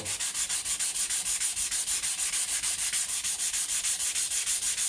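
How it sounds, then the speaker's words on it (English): A plastic comb from a Suzuki Sirius bass harmonica being block sanded flat, heard as fast, even back-and-forth scraping strokes in a steady rhythm, close and moderately loud with no talking. "Parts of it are getting sanded and parts aren't."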